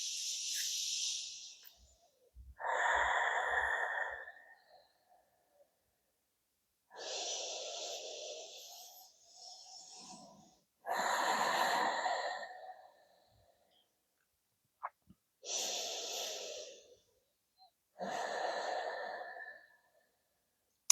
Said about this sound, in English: we will just take a couple of deep breaths in